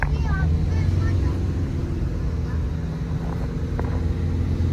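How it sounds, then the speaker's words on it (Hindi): Car engine pulling up a steep hill toward Janapav Hill near Indore, shifting from second into first gear: a steady, loud low drone with continuous road and wind noise throughout. "इस वक्त हम ऊपर चढ़ रहे हैं और हमारी गाड़ी जो है सेकंड गियर में आ गई है, लेकिन मुझे फर्स्ट में डालनी होगी।"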